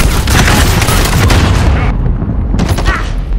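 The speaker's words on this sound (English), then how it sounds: "Throwing grenade. Stun bomb out." A stun grenade detonates in Call of Duty: Modern Warfare, a loud, dense burst of noise that fills the clip and cuts off abruptly partway through, with brief faint voices in the mix.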